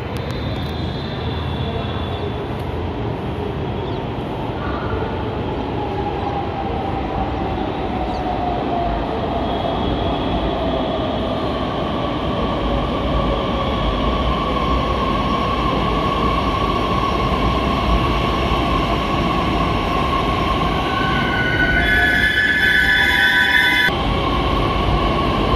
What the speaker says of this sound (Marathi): आता मेट्रो पुढे जाणार आणि ट्रॅक चेंज करून परत येणार आहे इथंच.